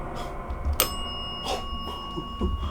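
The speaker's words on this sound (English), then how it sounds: "can you ring that bell if you're attached to an object in this room?" A small bell rings with one bright ding early on, then a few softer, fainter chimes follow over a quiet room background, with no talking.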